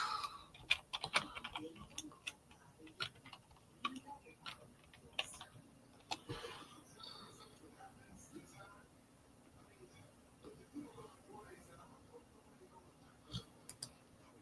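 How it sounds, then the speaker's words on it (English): Faint, steady ticking of a timer clock, mixed with scattered clicks and taps, with quiet talking underneath. "Let me get my clock going."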